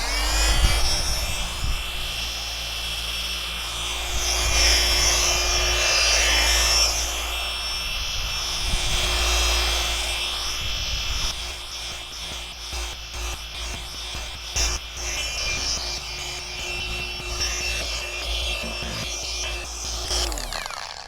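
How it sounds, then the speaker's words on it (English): A cordless battery-powered car polisher hums at a steady pitch, a constant motor whine and buzz that holds evenly throughout and eases off slightly near the end. "the great thing about this polisher is you don't need to worry about a cord going over your shoulder"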